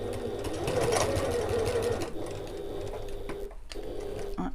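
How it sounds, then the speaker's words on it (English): Close, steady whir of a sewing machine stitching across the short ends of an evening bag, its motor hum and needle clatter running throughout with a brief dip and restart near the end. "all we're going to do is just stitch across these short ends to secure them into place"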